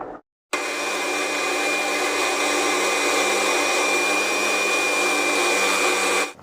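A mixer grinder whirs loudly and steadily for several seconds after a brief silence, grinding for mushroom biryani, its motor whine holding a constant pitch before cutting off.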